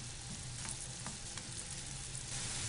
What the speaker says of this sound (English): So we're going to saute the onions.